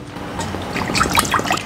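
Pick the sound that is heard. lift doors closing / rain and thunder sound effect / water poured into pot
water poured into pot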